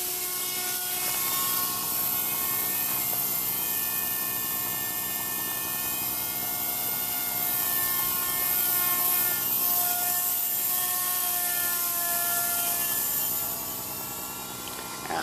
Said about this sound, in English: Gonna get down with the heli.